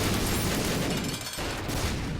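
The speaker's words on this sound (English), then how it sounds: "This is starting to create a whole bunch of explosions." A rapid, dense barrage of overlapping explosions from The Binding of Isaac: Rebirth video game, continuous crackling booms at moderate level with a brief lull midway before the blasts resume.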